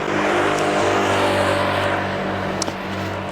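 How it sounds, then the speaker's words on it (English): Cars driving past on a road near a boat, a loud, close engine and tyre rumble that holds steady and then cuts off abruptly. "a ton of cars keep going by"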